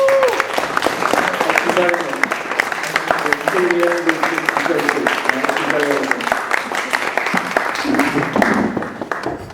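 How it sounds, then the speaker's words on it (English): Audience applause at a certificate presentation ceremony, continuous clapping of moderate loudness running throughout with a speaker's voice talking over it. "Would the Ents mind just standing up for a little applause?"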